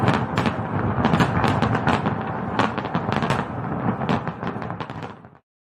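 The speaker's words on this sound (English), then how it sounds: "Yes, we got the fireworks, Lindsay." Rapid bursts of fireworks crackle and pop continuously, dense overlapping bangs for several seconds before cutting off abruptly.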